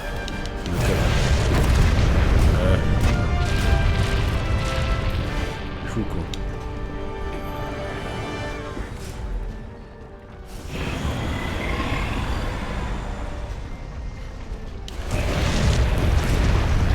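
Cannons fire repeatedly in the video game Monster Hunter World: loud booming blasts and crashes over a dense game soundscape, with a voice talking over them throughout.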